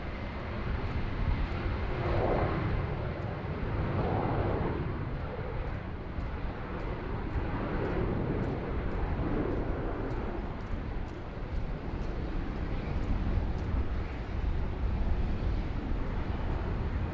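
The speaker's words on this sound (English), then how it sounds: "clear for takeoff. And off she goes, off to Tassie, the city of Launceston" Airliner taking off from Sydney Airport bound for Launceston, a steady broad engine roar heard from a distance, sustained throughout with some wind buffeting and no clear talking.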